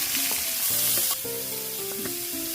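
Sliced onion hits a hot pan with green chilli and ginger, giving a steady close sizzle with a few faint tonal clinks, no talking.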